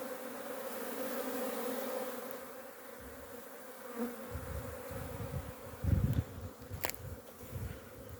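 Honeybees fly and buzz around a beehive outdoors, a steady layered drone of many wings at moderate distance, with occasional nearer bees passing close and some rustling handling noise.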